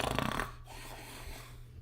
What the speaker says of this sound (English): That's a snore.